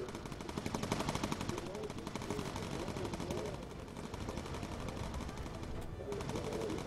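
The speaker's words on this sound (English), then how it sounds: "I can see the gunfire all over here" Rapid machine-gun fire rattles on in the aerial combat video game Bomber Crew, a dense continuous stutter of shots over engine drone, steady and moderately loud throughout.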